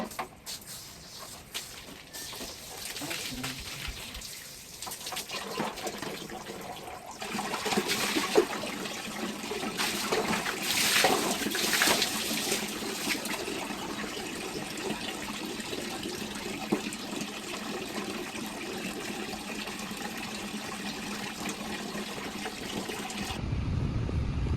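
Water runs and splashes while shampoo is rinsed from freshly dyed hair, a faint, close trickle that swells into a steadier pour midway, with no talking.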